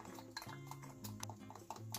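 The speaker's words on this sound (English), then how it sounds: "You're gonna whisk it, but I'm gonna do it with a fork" A fork whisks an egg in a bowl, quick rhythmic metallic clicks and scrapes ticking against the dish, close and fairly quiet, no voices.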